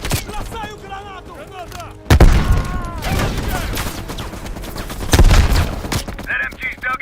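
A loud grenade blast bursts through continuous automatic gunfire in Call of Duty Black Ops Cold War. A second heavy boom follows a few seconds later. Scattered shots and battlefield noise fill the gaps between them, with brief voices.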